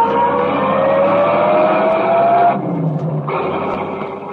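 A car engine roars steadily under a 1938 radio crime drama chase, loud and close, with a sustained droning pitch that rises and drops, cutting off briefly near the end before surging again.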